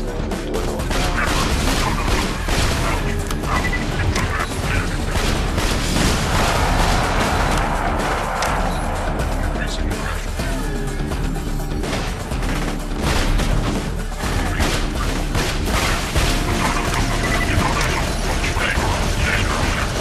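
Rapid gunfire and explosions in a shooter video game while mechanical enemies are shot down: dense, continuous bursts of shots and blasts at steady loudness, with occasional talk underneath.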